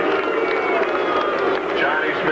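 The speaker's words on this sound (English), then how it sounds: "You can hear the cheers from the crowd." A college football crowd roars and chants steadily at the 2002 Humanitarian Bowl, Boise State against Iowa State, a dense continuous wash of stadium noise filling the stands.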